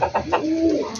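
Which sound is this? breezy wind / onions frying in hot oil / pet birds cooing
pet birds cooing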